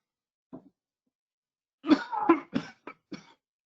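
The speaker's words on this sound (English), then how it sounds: "That was a cough." A small throat sound, then a burst of several harsh coughs in quick succession, close and fairly loud, in an otherwise quiet room.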